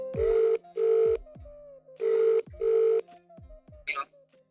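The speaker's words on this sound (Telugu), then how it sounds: "ఓ పని చేద్దాం, బిత్తిరి సత్తి ఫోన్ చేపిద్దాం" A telephone rings as a call is placed on a television game show, sounding in two pairs of short, loud, buzzing ring bursts with brief gaps between them, followed by a short electronic chirp, with no talking.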